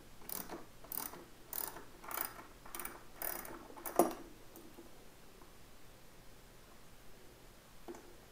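Ratchet clicking in quick repeated bursts while loosening the upper triple tree bolts on a Yamaha R1 motorcycle, close and fairly quiet, followed by a sharp metallic clack and then near silence.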